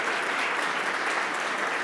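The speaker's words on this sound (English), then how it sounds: "So this one really quick round of applause for our panelists" An audience applauds steadily and fairly loudly for a panel of religious leaders at a community forum, dense clapping filling the whole moment with no pause.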